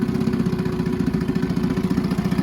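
A small outboard boat motor idles in neutral, running steadily with an even, rapid low putter and slight mechanical clatter, close by, with no talk.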